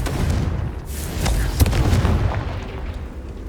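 Confringo fire spell blasts in the video game Hogwarts Legacy, a dense run of booming, crackling explosions layered over rumbling game noise, loud and continuous, with sharp bursts near the middle.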